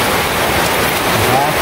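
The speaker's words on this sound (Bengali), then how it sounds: "ওই যে বৃষ্টি এসে পড়ছে" Rain beginning to fall in a small village, a dense, even hiss that stays loud throughout the short moment with no voices.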